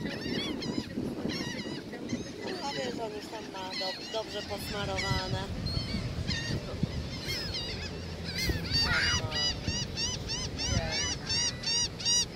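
Seagulls call near people feeding them snacks, a dense chorus of harsh, repeated squawks and cries from several birds, close and loud, with people talking underneath.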